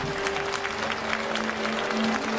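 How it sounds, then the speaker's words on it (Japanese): A crowd applauds steadily at a Dragon Quest stage event at Tokyo Game Show 2024, a dense patter of clapping hands filling the room, with a faint hum underneath. "皆さん大きな拍手でお迎えください。"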